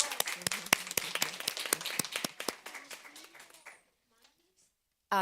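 Audience applause for Seal of Biliteracy recipients at a board of education meeting: dense, loud clapping for nearly four seconds that fades out quickly, followed by near silence and then a brief burst of sound at the end.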